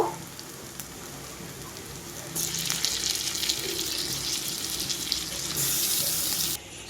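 Water pours steadily into a cooking pan holding spices, tomatoes, salt and turmeric for a chicken curry, a close, continuous splashing rush that grows louder partway through and stops just before the end, with no talking.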